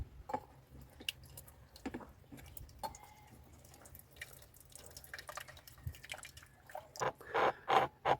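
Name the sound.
hot distilled water poured into beaker with sulfuric acid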